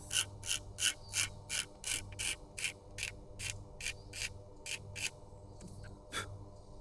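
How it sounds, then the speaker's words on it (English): Rhythmic scraping strokes of a razor blade taking clear coat off Bentley Turbo RT woodwork, about a dozen evenly spaced passes across the hard surface, close and fairly quiet. "Now we're going to fix this with a normal everyday razor blade"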